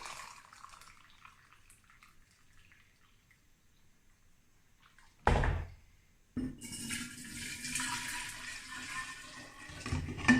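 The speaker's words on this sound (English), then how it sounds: "you're going to want 2 cups of boiling water. So pour that." Boiling water pours steadily into a container for making kombucha, with a rushing, splashing sound, after a quiet stretch and a brief clunk of handling.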